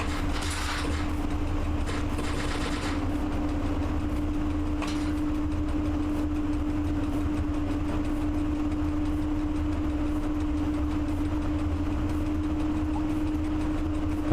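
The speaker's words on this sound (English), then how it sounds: "this locomotive is really struggling" A locomotive labours under a cargo load in the simulator Train Driver 2, holding a steady, droning engine hum with a low tonal whine. A few brief clicks and hisses sound early on, then the drone continues unbroken.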